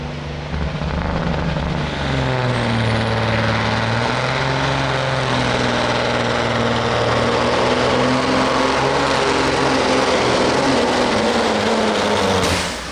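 Kenworth W900 semi truck called Snowman, from Ravenna, Ohio, roaring loud and continuous under full load during a street semi truck pull at a county fair, engine pitch rising then holding steady with dense crowd-level noise throughout.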